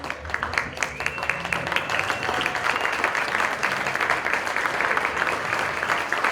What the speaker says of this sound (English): let's give this humble young man a big round of applause